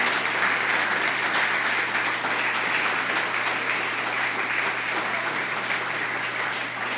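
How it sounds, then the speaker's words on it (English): Sustained applause from an audience at a public forum event honoring author Alec Karakatsanis, steady and dense clapping throughout with a faint low hum underneath. "I want everyone to give Alec a big round of applause."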